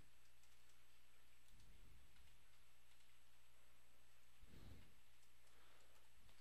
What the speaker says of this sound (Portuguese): Só para vocês verem aqui que eu estou digitando mesmo a senha.